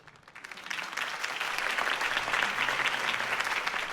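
Crowd applause in the Batman Telltale video game after a campaign speech, a dense, steady wash of clapping that swells in within the first half second and holds loud and even to the end.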